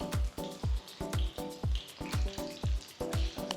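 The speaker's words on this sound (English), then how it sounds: "Deep fry the paneer till you get a lovely golden brown color." Battered paneer pakoda pieces deep frying in hot oil, a steady close sizzle broken by repeated bubbling bursts at a fairly even rhythm.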